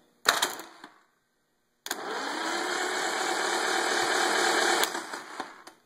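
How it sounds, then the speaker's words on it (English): A Triumph TR4 engine running off a battery: a short sharp burst, a pause, then a steady, fairly loud mechanical whir that holds for about three seconds before winding down with faint knocks. "So that's just running off the battery in my Sprite here."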